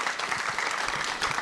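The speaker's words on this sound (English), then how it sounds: "Can I get another round of applause for Sarah and Naomi?" Audience applause at the close of an author event, dense steady clapping from many people in a room, continuous and moderately loud for the whole stretch.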